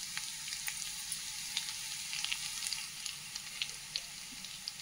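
Garlic paste frying in a little hot oil in a kadai, a soft, continuous crackling sizzle with scattered small pops, fairly quiet and alone.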